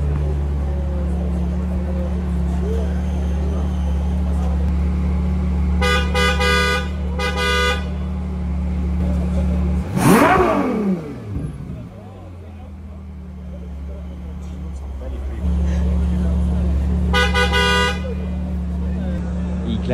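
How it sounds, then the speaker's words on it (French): Car horns honk in Paris street traffic, with repeated short toots in two bursts, then another later, over a steady engine rumble and a passing vehicle sweep. "il fait que klaxonner"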